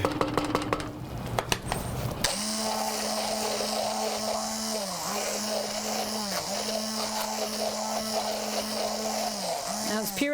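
A blender purees a bisque soup with a steady, loud whirring motor hum that dips briefly in pitch as the contents churn, following some clattering and handling at the start.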